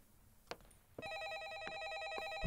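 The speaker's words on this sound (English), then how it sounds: "I'm not answering the phone, so you can stop." Telephone ringing in a horror video game: a couple of faint knocks first, then a bright electronic ring tone with a rapid warbling trill that sounds steadily and fairly loud to the end.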